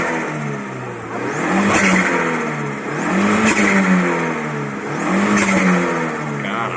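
An Audi A3 turbo engine rated at 180 hp revs three times in a slow, even rhythm. Each rise swells into a loud, harmonic-rich roar and then falls back to idle, heard close up.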